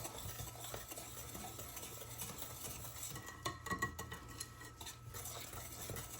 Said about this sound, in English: I'm just gonna give this a really good mix.